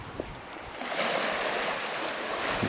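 Broad, steady wash of Atlantic Ocean surf at a campground beach on the Gaspé, a continuous roar of breaking waves filling the scene at moderate loudness with no voices.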